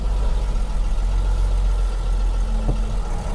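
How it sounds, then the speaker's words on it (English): Mercedes Unimog FLU419 SEE tractor driving in high range, second gear, a steady low diesel drone and rumble heard from close by with no talk. "We're just driving in high range in second gear."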